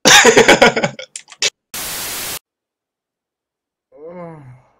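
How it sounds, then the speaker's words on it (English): A player in Arma 3 voice chat gives a short, drawn-out voiced yawn that falls in pitch near the end. It follows quick talk and a harsh burst of static, then the line goes silent. "No, I was yawning"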